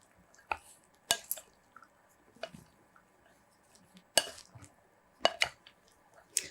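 A spoon clinks and scrapes in a bowl while peanut chaat is tossed with pomegranate seeds, giving sparse, sharp taps and soft wet stirring at close range in an otherwise quiet kitchen.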